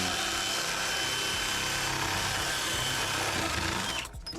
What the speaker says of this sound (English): I'm going to use this inside pipe cutter and attach it to my drill